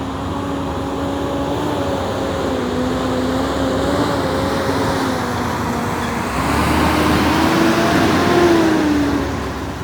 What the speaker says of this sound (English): Trying to get away from this noisy truck.